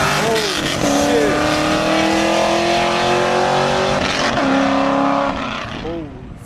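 A street race car with nitrous accelerates hard, its engine rising through a long, loud climbing whine with shifts and brief tire noise, close at first and then fading as it pulls away.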